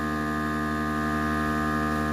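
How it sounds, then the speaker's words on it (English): A FoodSaver vacuum sealer runs steadily while sealing a food bag, giving a close, even electric hum with strong tonal drone and no break across the whole stretch. "Okay, it's sealing the bag now."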